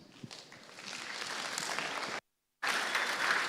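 Applause from spectators for cattle at a dairy show, building to steady clapping, cut off by a brief gap of silence, then resuming just as strongly.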